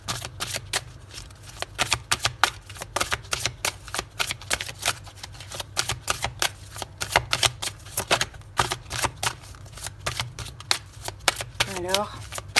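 Tarot cards being shuffled by hand in rapid crisp riffling bursts, a dense run of sharp flicks and slaps at close range, with brief pauses between handfuls.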